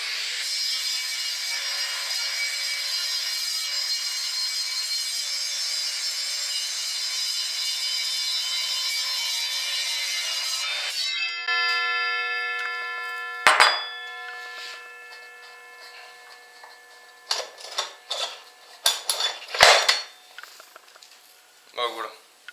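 An Evolution R255 SMS radial miter saw runs with a high whine for about ten seconds, then spins down with a ringing tail, followed by a few clunks and handling knocks while someone talks.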